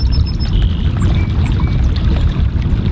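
Water sloshing and dribbling over the edge of a gold pan held under the water while panning fine concentrate, a close, continuous wet splashing with no talk.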